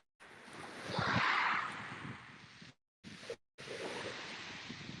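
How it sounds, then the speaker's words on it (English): Waves breaking on a windy beach in Sussex, a broad roaring surge of surf swelling loudly and then easing, with wind buffeting the microphone and brief dropouts toward the end. "It's a little blowy, but you get to hear the waves."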